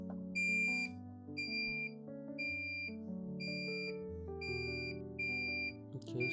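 A Deye 6 kVA inverter's alarm, showing fault F13 while running without batteries, beeps in a steady repeating pattern, loud high tones pulsing roughly once a second over a low droning hum.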